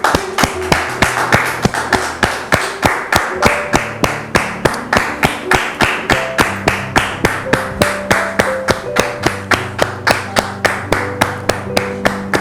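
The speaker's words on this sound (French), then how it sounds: "on le reçoit maintenant sous vos applaudissements" A TV studio audience on a talk-show set claps steadily in a regular, rhythmic beat over a bright musical jingle, welcoming a guest as the clapping runs evenly throughout.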